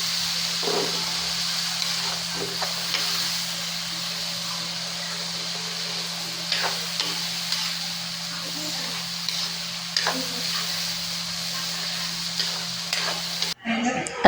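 Garlic butter tilapia with fish sauce is stirred in a pan, giving a steady loud sizzle and hiss with a constant hum and a few spoon scrapes, ending in a sharp clatter.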